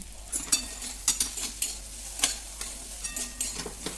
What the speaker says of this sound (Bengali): দিয়ে ভালো করে এটাকে ভালো করে ভেজে নিতে হবে